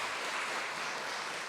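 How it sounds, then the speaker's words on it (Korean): An audience at a health seminar claps in a steady, dense wash of applause, heard briefly. "여러분들을 뜨거운 박수로 환영해 주시기"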